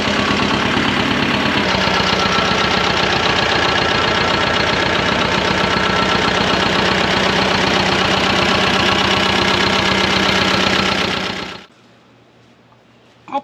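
A Belarus 250AS tractor, the HTZ T-25, idles while warming up, with a loud steady diesel clatter and knock that carries on evenly for about eleven seconds before the engine cuts off into near silence.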